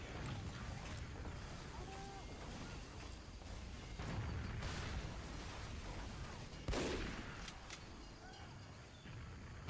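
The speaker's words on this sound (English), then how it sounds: "Okay, well that's why you're shooting me." Gunfire in Team Fortress 2, a scattered run of shots and mechanical clatter in the middle distance, with a sharper burst near the end, mixed into steady game noise.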